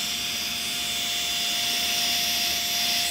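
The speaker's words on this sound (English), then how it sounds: "get your trusty dusty blow dryer or heat gun, and we're going to gently heat it to release a lot of those air bubbles and things" A heat gun or blow dryer gently warms a real carbon fiber wrap on interior trim, giving a steady, loud airy whoosh with a constant fan whine that holds unchanged throughout.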